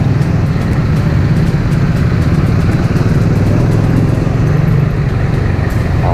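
A Suzuki Raider R150 FI motorcycle runs loud and close while its rider feathers the clutch in traffic, the engine keeping a steady, throbbing mid-pitched drone with no pauses.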